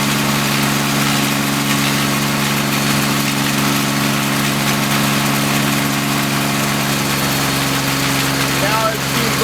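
Darley AGE fire pump engine running steadily during a pump test as its RPM is adjusted, a loud, continuous droning hum with strong steady harmonics, close and unbroken throughout.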